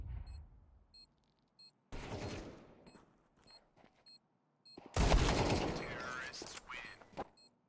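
Counter-Strike 2 gunfire comes in bursts of rapid shots separated by short quiet gaps, loud and close, with heavy clattering volleys near the end and a caster's voice talking at times.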